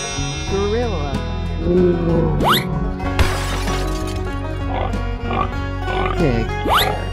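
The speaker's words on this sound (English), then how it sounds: "Pig." A pig sound effect plays in an animal-guessing escape room game: two rising squealing oinks come several seconds apart over steady background tones.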